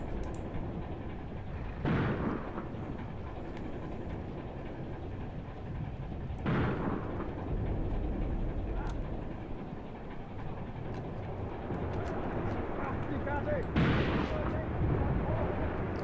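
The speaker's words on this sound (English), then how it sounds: "He's just lighting the area up with HE rounds." High-explosive artillery rounds burst in a WWII Eastern Front battle in Graviteam Tactics: Mius Front, three distant booms spaced several seconds apart over a steady rumbling battlefield din, with no voices.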